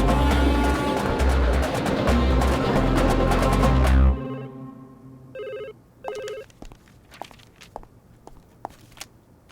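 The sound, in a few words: Reliance mobile phone ringing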